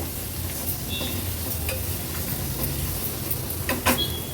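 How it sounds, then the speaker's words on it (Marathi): Medium-sized tomato sautéing with masala in a hot pan gives a constant dense sizzle, close and even, with a few light scrapes of a spatula near the end. "तो देखील मसाल्यासोबतच थोडासा परतून घ्यायचा"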